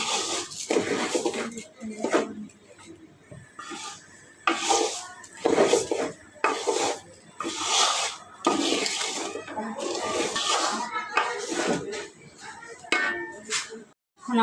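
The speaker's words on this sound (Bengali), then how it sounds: "এখন এই মশলাটা দিয়ে চালটা আমরা সুন্দরভাবে ভেজে নিব।" Rice is stir-fried with biryani masala in a large pot, with repeated scraping and clattering of a ladle against the metal and a faint sizzle, and a person talking at times.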